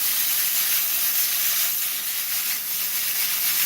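Green beans sauté in a hot pan, a steady, loud sizzling hiss that continues without a break throughout.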